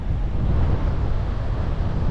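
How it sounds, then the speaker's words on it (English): Big 15-foot ocean waves crash over black rocks at a tourist spot, making a loud, continuous roaring wash of surf with wind buffeting the microphone. "the 15-foot waves that crash over those black rocks"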